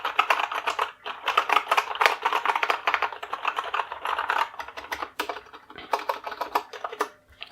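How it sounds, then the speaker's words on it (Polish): Typing on a Modecom Volcano Hammer 2 RGB mechanical keyboard fitted with Outemu Box Brown switches: a fast, dense run of close, crisp keystrokes with short pauses, and no voices. "Nie mają oczywiście kliku jak Blue, ale mają charakterystyczne przyhaczenie przy aktywacji klawisza."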